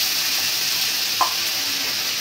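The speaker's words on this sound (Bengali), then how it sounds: "এখন এর সাথে দিয়ে দিব আদা রসুন বাটা। এটাও একটু" Ginger garlic paste frying with onions in hot oil gives a steady, close sizzle, with a faint clink of stirring partway through.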